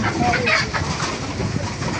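Hill chickens in Chattogram give short clucks and calls near the listener, several brief voices overlapping against a busy outdoor background.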